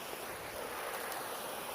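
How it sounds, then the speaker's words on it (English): A stream flowing toward a creek at a fishing spot, heard as a steady, broad rushing wash of water that stays even and continuous throughout, with a touch of wind. "Check the stream out."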